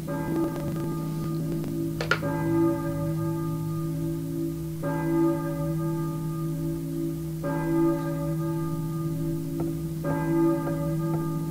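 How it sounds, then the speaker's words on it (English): A church bell tolls in the Silent Hill video game, striking four times at even intervals of about two and a half seconds, each ring bright and resonant over a constant low drone. "Maybe who is ringing the bell?"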